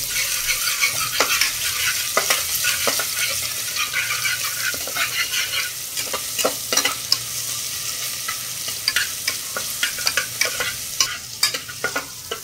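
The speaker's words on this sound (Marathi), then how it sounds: "चक्रीफूल, तमालपत्री, दालचिनी आणि वेलदोडे हे चांगलं परतून घ्यायचं आहे।" Whole star anise, bay leaf, cinnamon and cardamom, with ginger-garlic paste, sizzle and fry in hot oil in a pan for prawn biryani, under steady close stirring with frequent spoon scrapes against the pan and no speech.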